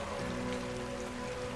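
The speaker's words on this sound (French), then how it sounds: "un vent de tempête se lève, rapidement accompagné par la pluie" Steady rain driven by a storm wind, falling near a mountain chalet as a dense, continuous hiss of drops on surfaces with a low steady rumble beneath, no voices.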